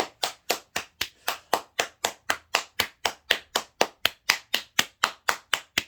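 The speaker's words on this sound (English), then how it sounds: "I don't think the clapping has been as consistent and loud as it has been for this one" Steady, loud hand clapping by one person during a channeled tarot reading, about twenty-three sharp claps in an even rhythm, close and alone.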